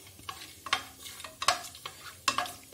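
Whole spices — star anise, black cardamom, cinnamon and mace — stirred in a hot pan for mutton yakhni pulao, giving three or four short scraping stir strokes over a faint sizzle, close and with no voices.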